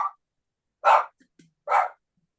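A dog named Greta barks at birds, two sharp, loud, close barks spaced under a second apart, with a clipped bark at the very start and quiet gaps between.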